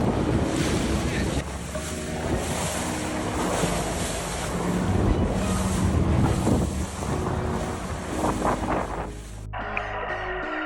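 Rough ocean waves surge and crash near Oceanside amid dolphins charging through the water, a loud churning wash with heavy wind noise that breaks off abruptly near the end.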